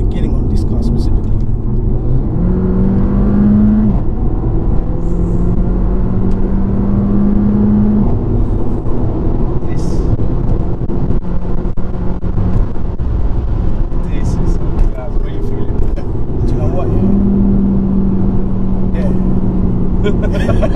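A 381 bhp Mercedes CLA 45 AMG accelerates through its gear changes. A steady engine drone and road rumble run under constant talk inside the car, with the engine note climbing in pitch and then resetting at each shift.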